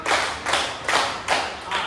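A class of students claps hands in unison in a counted pattern, producing about five evenly spaced, sharp group claps in quick rhythm with no talking.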